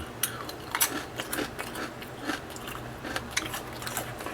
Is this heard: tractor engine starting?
no